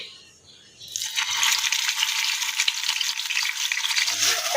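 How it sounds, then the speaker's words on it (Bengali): Koi (climbing perch) fish lightly frying in oil: after a second of near quiet, a loud, steady, crackling sizzle starts and carries on unbroken to the end, with no talking. "তেল কইয়ের জন্য কইটাকে আগে সামান্য ভাজবো একদম সামান্য হালকা করে"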